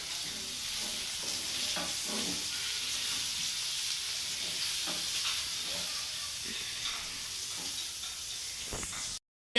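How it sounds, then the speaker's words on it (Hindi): An egg fries in a pan during home lunch preparation. A steady, moderate sizzling hiss runs throughout, with a few soft scraping stirs under it, and the sound cuts off abruptly at the end. "मम्मा भून रही हैं यहाँ पर अंडा"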